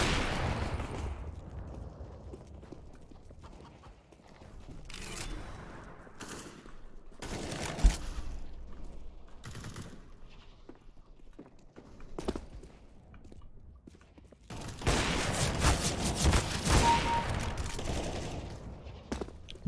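Bursts of gunfire from a CS:GO match, several scattered volleys and short rapid strings of shots of varying loudness, with a denser, louder stretch of firing near the end.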